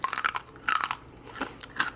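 Close-up crisp crunching of air-fried crispy fatback being chewed, several loud crackly bites in quick succession, with no talking.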